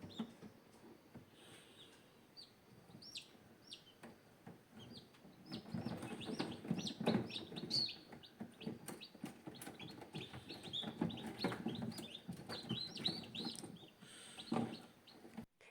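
Newly hatched gamefowl chicks, some still wet, peep and cheep in a dense, faint chorus from an incubator, growing busier midway with many overlapping chirps.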